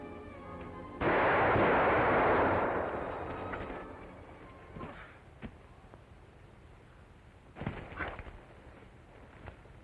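A gunshot in an old Western film about the Northwest, one sharp loud blast followed by a decaying echo, then a few fainter knocks and clatters with no voices.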